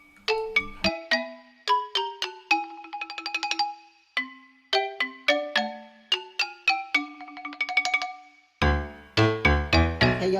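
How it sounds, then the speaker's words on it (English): A melodic phone ringtone plays for an incoming call, a repeating run of bright chime-like notes in quick rising and falling phrases, loud and clear, ending in a denser burst of tones, with no talk. "Got a phone call."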